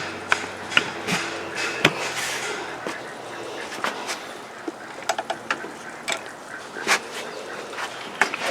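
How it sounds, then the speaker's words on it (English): A hand-cranked sewing machine turns through full rotations, sending the needle down to catch the bobbin thread; its close mechanical clicks and ratcheting knocks come in an irregular run over steady low background noise. "So as I hand crank this, I'm sending the needle again down to pick up the bobbin thread, and it's a complete rotation."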